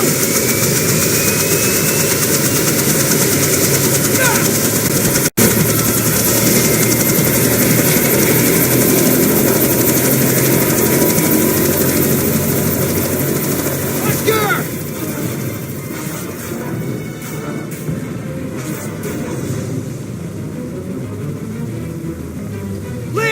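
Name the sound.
helicopter flying overhead, in a film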